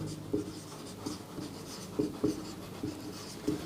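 Chalk or marker strokes scratching across a board during a Class 10 science lesson, a series of short separate strokes at an irregular pace, close and fairly quiet, with no talking.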